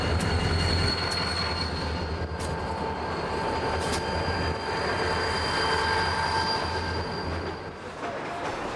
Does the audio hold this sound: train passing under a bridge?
yes